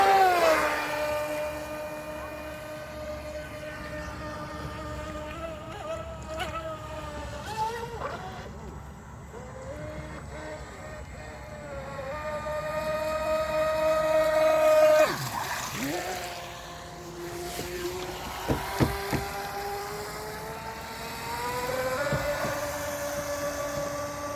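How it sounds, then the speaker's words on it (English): A Pro Boat Stealthwake RC boat with an upgraded brushless motor runs on water, its electric whine rising and falling as it speeds up and slows, with a few brief sharp clicks in between. "see if we can actually run the boat without it stopping on us"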